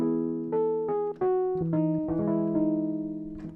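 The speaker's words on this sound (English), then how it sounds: "I got this Wordsy plugin yesterday." A Wordsy audio plugin effect used in folk music production gives a short run of clear, voice-like pitched tones that step through different notes, each one sustained and harmonically rich, heard alone.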